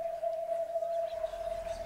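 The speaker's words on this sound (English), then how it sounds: "It sounds like a parrot or something." Parrot-like bird call in the video game Hello Neighbor, a steady sustained whistling tone held for about two seconds, fairly faint over low background rumble.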